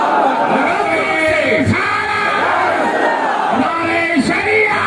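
A large crowd at a political rally in Hunterganj shouts a loud, unified slogan response, their massed voices swelling in two or three sustained waves of chanting.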